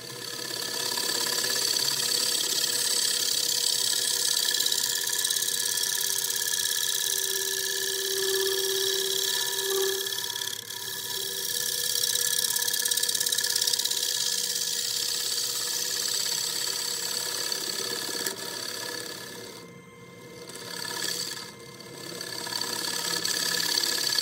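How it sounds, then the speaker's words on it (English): A negative rake scraper runs along the bottom of a hundred-year-old red cedar bowl spinning on a lathe, producing a steady close whirring hum and scraping texture with brief dips, and no talk. "Running the negative rake scraper along the bottom"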